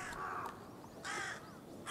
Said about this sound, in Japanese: カラスとともに猛禽がやってきました。